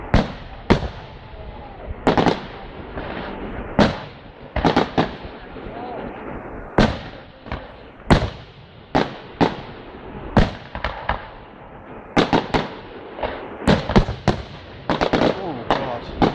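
Bonfire Night fireworks display at Snibson Discovery Park in Coalville, Leicestershire: repeated loud booming bursts and crackling pops at irregular intervals, some in quick clusters, with people talking between explosions.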